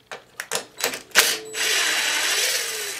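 Ratchet backing out 8 mm fine-thread bolts on a Weedeater push lawnmower, a few quick clicking strokes followed by a steady whirring buzz from the tool, close up.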